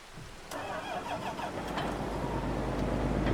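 A John Deere tractor engine in the Farming Simulator 22 game cranks over and catches at about half a second, then settles into a steady, fairly loud low idle rumble with no voices.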